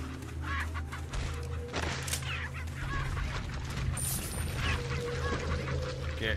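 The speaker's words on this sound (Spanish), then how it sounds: "¡Esta gallina!" Chickens in the Resident Evil 4 video game cluck and squawk repeatedly in short irregular bursts, fairly close, over a low steady game ambience hum.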